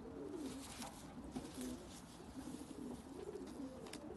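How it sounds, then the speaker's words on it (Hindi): Soft, low cooing of a Pakistani zeera pigeon repeats in gentle rolling phrases over a faint, hissy background, fairly quiet throughout. "बहुत ही नायाब कबूतर है ये"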